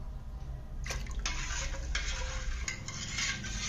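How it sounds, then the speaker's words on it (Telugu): A ladle swirls salt through buttermilk in a pot, a steady wet sloshing and scraping that goes on without pause at close range. "ఉప్పేసి బాగా గరిటితో కలుపుదాం"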